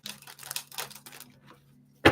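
Tarot cards are shuffled by hand, a run of crisp flicking and rustling bursts that ends in a sharp final snap, close and with no voices.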